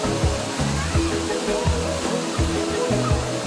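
Indoor waterfall at Jewel Changi Airport in Singapore: a constant, full rushing roar of falling water at close range, with a crowd murmuring and a voice talking over it.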